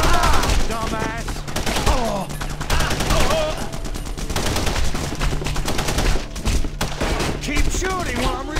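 Dense, rapid gunfire fills a shootout in The Punisher PC video game, with bursts of automatic fire and scattered shots running throughout alongside game voices and effects.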